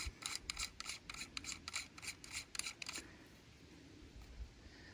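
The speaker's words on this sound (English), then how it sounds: "I will need this adapter. which will screw onto here." Metal threaded adapter being screwed onto the threaded barrel of a Ruger 57 pistol, a run of quick close clicking and scraping turns in the first three seconds, then quiet.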